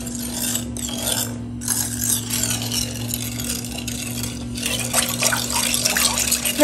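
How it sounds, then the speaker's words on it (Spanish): Sugar stirred in a pot while making pears poached in red wine: a continuous scraping, rattling swirl close up with a slight liquid quality and a steady hum underneath, no voices. "Vamos a mover para que no se cristaliza el azúcar."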